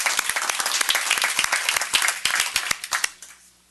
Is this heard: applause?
yes